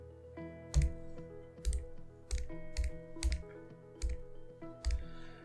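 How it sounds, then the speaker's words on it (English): Someone types a search into the App Store, with about eight evenly paced key taps sounding close over soft background music. "in the App Store we go to search and we type in AirData"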